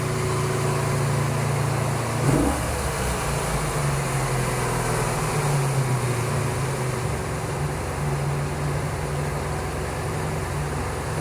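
A cafe racer motorcycle engine idles steadily after carburetor synchronization, giving a smooth, even hum close by, with one brief bump near the start and no talk.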